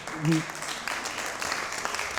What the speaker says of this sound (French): Public, on va applaudir.